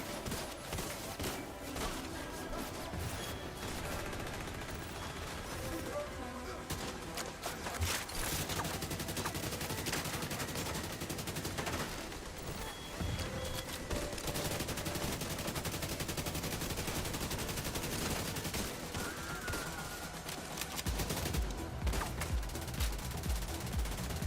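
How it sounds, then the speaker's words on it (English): Continuous gunfire and rapid bursts from enemies shooting at range in The Division 2, dense and loud throughout, with a sharper flurry of shots near the end. "This guy shooting from way back there is kind of annoying because I block his shots if I stay in front of him."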